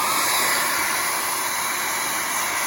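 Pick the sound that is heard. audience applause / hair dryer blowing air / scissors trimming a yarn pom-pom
hair dryer blowing air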